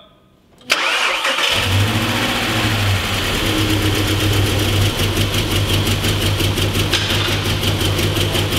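A VW Touareg V8 with a failing timing chain tensioner cranks after a short quiet moment, then catches and runs at a steady, loud idle. A rough rhythmic ticking rides over the close engine drone.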